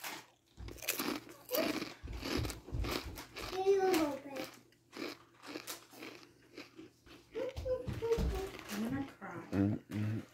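A kettle-cooked sour cream and onion potato chip crunches in several sharp bites and chews, close and crisp, between bursts of conversation from people nearby.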